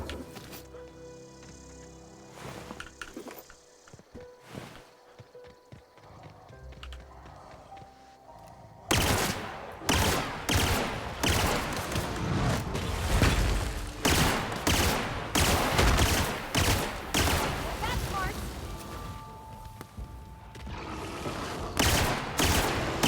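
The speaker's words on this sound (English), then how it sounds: "Tactical shotgun." Rapid, loud tactical shotgun blasts in The Outer Worlds, a dense burst of repeated booming shots after a quieter stretch of game ambience and music.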